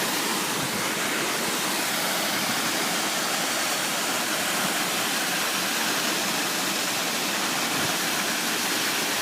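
Pistyll Rhaeadr waterfall in North Wales running high after heavy rain, a loud, steady, close roar of falling water with no voices.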